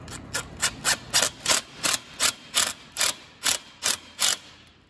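A ratchet tightens a hose clamp on a rubber sump hose of an Allis Chalmers 175 tractor, with about a dozen evenly spaced, crisp strokes close up.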